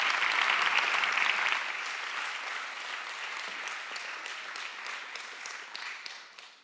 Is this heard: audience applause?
yes